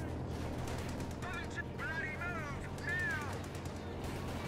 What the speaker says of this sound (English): I'm hitting them with artillery.